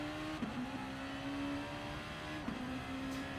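Group 2 race car engine in Gran Turismo Sport, a steady high whine holding level with two brief dips where the driver shifts or lifts, running alone without talk.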